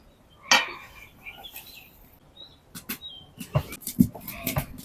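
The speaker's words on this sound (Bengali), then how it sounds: "এখান থেকে অল্প একটু তেল উঠিয়ে নেব" A metal utensil scoops hot oil from a pan for beguni batter, making a few sharp, close clinks and scrapes against the pan, spaced out over an otherwise quiet kitchen.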